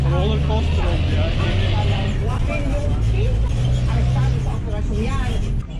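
A bus rumbles and jolts along a rough road, low engine drone and rattling continuous throughout, with people chattering over it inside the cabin.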